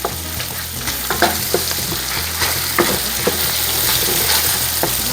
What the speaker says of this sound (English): Saute this onion, like so.